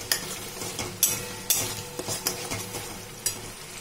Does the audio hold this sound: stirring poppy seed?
yes